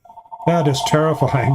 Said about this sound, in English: That's my phone, and my wife will answer it.